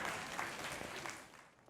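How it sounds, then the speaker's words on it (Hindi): A small audience claps faintly and steadily at a poetry evening, a soft, distant patter of applause with no voices, slowly fading. "तालियों के साथ स्वागत किया जाए"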